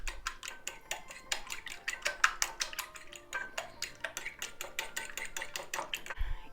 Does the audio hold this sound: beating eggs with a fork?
yes